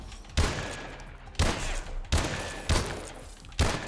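M1 Irons rifle firing at a firing range in Call of Duty: Advanced Warfare: five loud, sharp shots at roughly one-second intervals, each with a short ringing tail, close and alone.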